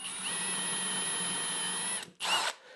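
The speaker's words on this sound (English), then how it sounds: "I'm just going to drill a hole straight through with my cordless drill" A cordless drill boring a hole through wood whines steadily for about two seconds, cuts out, then gives a short final burst before stopping.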